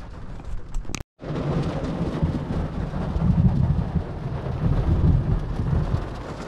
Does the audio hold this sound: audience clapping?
no